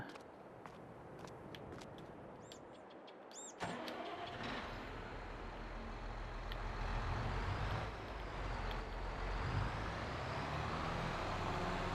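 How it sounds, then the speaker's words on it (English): Vehicle engine from a farming video game as a tractor with a direct disc seeder pulls out: a door or start sound, then a steady, fairly loud engine drone that holds and shifts slightly for the rest, with no talk. "Let's get this tractor out."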